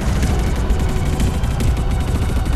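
An explosion in the video game Fortnite at the end of a season, a dense sustained rumbling roar with crackling bursts, loud and continuous without any talk.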